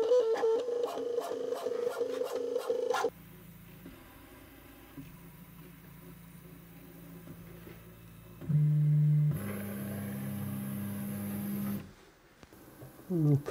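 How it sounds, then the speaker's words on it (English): Prusa 3D printer, a Prusa Mini+ or i3 MK3, running a Z calibration macro for bed mesh levelling: a rapid series of stepper-motor buzzes at first, then quieter low motor hums and a brief louder whirring burst, fairly close. "I'm now doing a Z calibration macro."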